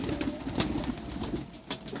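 Pigeons feeding together on scattered food, soft cooing and pecking close by, with two brief sharp flutters or pecks standing out over a steady low murmur.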